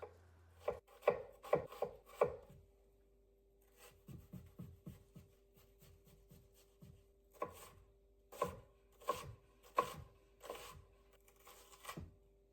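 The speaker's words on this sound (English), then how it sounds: "We want to chop the onion." A knife chops a white onion on a cutting board in quiet bursts of quick, close, crisp strokes, with short pauses between the runs.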